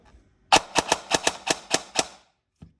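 A KWA Ronin airsoft gun on an 11.1 V LiPo fires one rapid full-auto burst of about eight sharp cracks, close and loud, followed by a single faint click.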